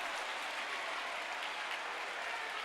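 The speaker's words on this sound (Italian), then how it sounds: "Applausi da parte del pubblico di casa" Home crowd applauding at a futsal match in an indoor arena, a steady, dense wash of distant clapping that holds at an even level throughout.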